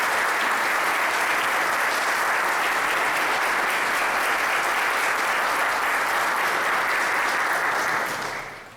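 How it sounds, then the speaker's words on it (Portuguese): Church congregation at a spring worship service gives a sustained round of applause, a dense even wash of clapping that holds steady and then begins to fade at the end. "Vamos dar uma salva de palmas ao Kyosho Sama."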